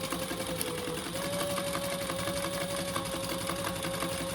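Sewing machine stitching a seam on a fabric shoulder bag, running as a continuous rapid mechanical whir with a steady motor hum, close and moderately quiet, no talk.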